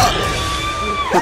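A girl lets out a loud, sustained high scream, one continuous shrill cry that bends upward and breaks off at the end, in a comedy puppet film.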